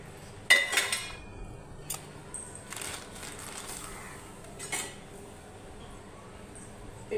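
Green peas tipped into a bowl for matar paratha give a brief, faint clatter and clink near the start, followed by a few softer knocks against a quiet room.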